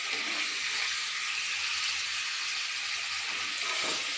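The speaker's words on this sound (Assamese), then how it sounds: "প্ৰথমতে ব্ৰইলাৰ চিকেনখিনি ৰিফাইন তেলত ফ্ৰাই কৰি ল'ব লাগিব" Broiler chicken frying in refined oil, a steady, dense hiss of sizzling that stays even throughout at moderate volume, with no voices.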